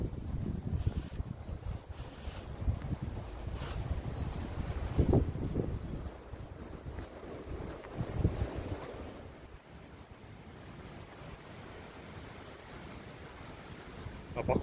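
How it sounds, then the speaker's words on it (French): Strong wind buffets the microphone outdoors on a forested morning near a camper van, a loud continuous roar with gusts rising and easing, a faint voice briefly underneath. "Quand même beaucoup de vent."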